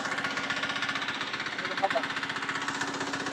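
A tractor engine chugs with a regular, fast knocking rhythm, close and continuous throughout, with a brief clank near the middle.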